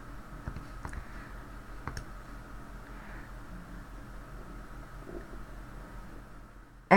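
A few sharp, sparse clicks of graphing calculator keys being pressed, close and quiet, over a faint background hiss.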